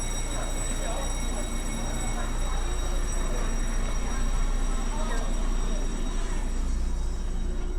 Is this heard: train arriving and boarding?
yes